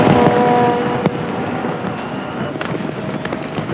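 Millennium New Year fireworks over the Thames in London crackle and pop amid a loud, dense rumble, with sharp bangs scattered across the clip and a broad roar of crowd or traffic underneath.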